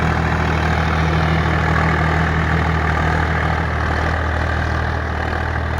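A Swaraj 855 FE tractor, a 55 horsepower model, runs steadily pulling an 11-tine tiller, its low diesel drone constant and loud throughout with no voices.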